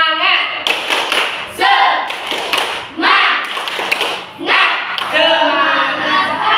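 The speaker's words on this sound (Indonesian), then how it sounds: "mari kita tepuk semangat dulu supaya agak semangat kita pembelajarannya" A classroom of children does a rhythmic spirit clap together, bursts of loud group clapping and thumping in a steady pattern, with chanting voices mixed in throughout.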